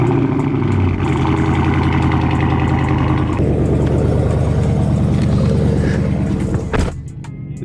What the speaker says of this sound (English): I'm still gonna drive on it, so we might as well get a little cold start